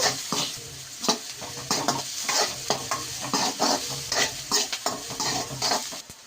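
Onions are stirred while frying in a pan for a broccoli chicken rice dish. A close, irregular scraping and clatter of a utensil against the pan repeats in quick bursts over a soft sizzle, with no voices.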